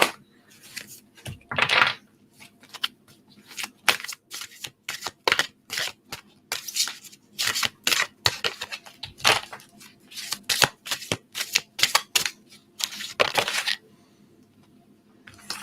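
Goddess, Saints and Angels oracle cards being shuffled by hand, a long run of crisp riffling and tapping bursts in an uneven rhythm, close and clear with no talk.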